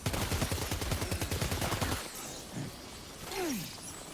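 Rapid gunfire in the video game Death Stranding 2 rattles out as a fast automatic burst of sharp, loud shots for about two seconds, then cuts off to quieter ambience with a brief voice.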